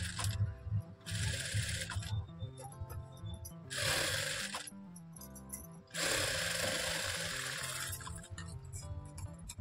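A sewing machine stitches darts on a puff sleeve, running in several short bursts of fast mechanical whirring separated by brief pauses, fairly close and moderately loud.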